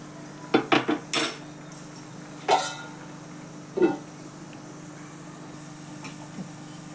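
Green bean pods being stir-fried in a pan, heard as scattered metallic clinks and scrapes of a spatula against the pan, close and fairly quiet with gaps between strokes.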